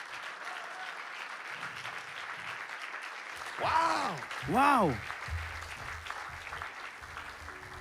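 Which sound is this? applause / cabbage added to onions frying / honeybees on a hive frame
applause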